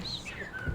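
A voice imitates sad bird noises with a few thin, descending whistled chirps, close and soft, sliding downward in pitch during a tabletop role-playing session.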